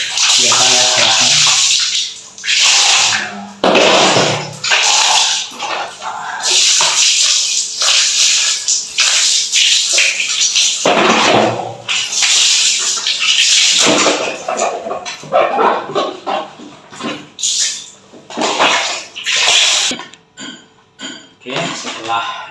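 Water splashes and gushes in repeated bursts as electric fan blades are rinsed clean, with occasional clinks of plastic, loud and close, while a person talks intermittently over the rinsing.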